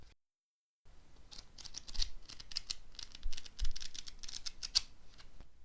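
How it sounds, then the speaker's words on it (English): Pages of a Choose Your Own Adventure book turning, a close series of soft, irregular papery flicks and rustles after a brief silence, with no talking. "The sound of pages turning like that is one of those sounds that's just unmistakable"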